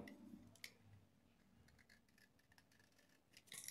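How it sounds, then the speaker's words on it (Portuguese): A craft knife trims and scrapes a plaster mold, producing faint, sparse scratchy clicks and short scrapes, with a slightly louder burst at the end. "Nós aí com o estilete tirando"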